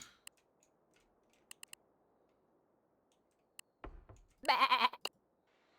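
A goat bleating in the video game Arco, one short wavering bleat near the end after faint ticks and a low thump in near silence.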